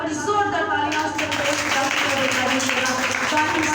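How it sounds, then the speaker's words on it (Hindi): Church congregation at a Sunday prayer meeting clapping hands loudly and continuously, a dense steady wash of applause mixed with voices and music throughout. "अपने दोनों हाथों को मिलाकर जोरदार तालियां से"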